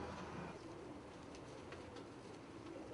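Pigeons cooing inside a loft, soft repeated low coos from several birds, fairly faint and close, with a light background hiss and no talking.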